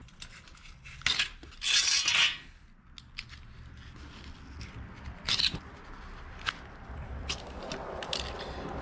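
Factory pads for a 1958 Chevrolet Apache truck being trimmed in a garage, a few sharp metallic snips and scraping cuts with a louder clattering burst early on, then scattered clicks over low background hum.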